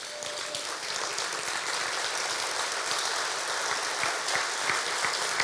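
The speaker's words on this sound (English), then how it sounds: "please stand so we can give you a round of applause" Guests at a gala dinner applaud the people standing, a broad sustained patter of many hands that holds steady and fills the room, with a few sharper claps near the front and no talk.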